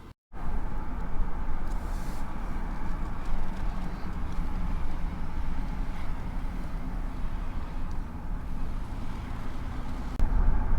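A vehicle drives along a sandy beach road on aired-down tires, a continuous low rumble of engine and road noise heard from inside, steady throughout.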